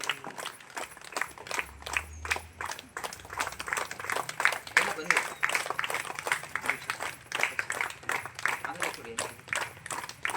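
An audience at a devotional bhajan and discourse gathering for Sri Ramakrishna Paramahamsa's birth anniversary applauds with dense, sustained clapping of moderate loudness, mixed with some talking.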